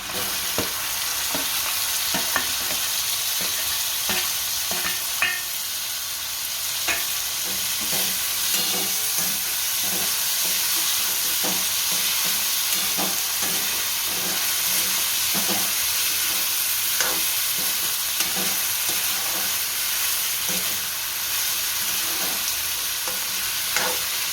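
Tomatoes and onions frying in a pan for Kathiyawadi sev tameta shaak, a steady loud sizzle with constant hiss and scattered sharp crackles and pops throughout.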